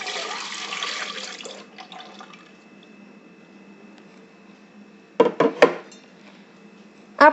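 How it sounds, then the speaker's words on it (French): Milk is poured into the bowl of a Monsieur Cuisine kitchen robot in a brief rushing stream, followed by quiet pauses and a few sharp clinks of utensils near the end. "je vais commencer par mettre dans mon bol mon lait"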